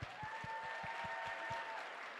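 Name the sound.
audience applause for scholarship recipients at pageant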